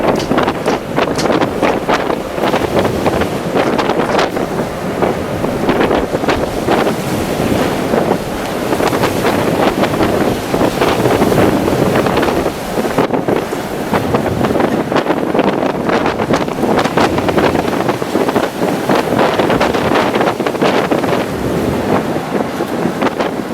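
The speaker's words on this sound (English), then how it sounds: "the weather started to get a little bit more nasty and rainy, windy, you name it" Stormy wind and waves batter a Norwegian coastal voyage ship in nasty, rainy weather: a steady, loud roar of wind across the microphone over constant rushing surf and sea noise, with no voices.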